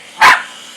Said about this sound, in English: And this is the cat he's barking at.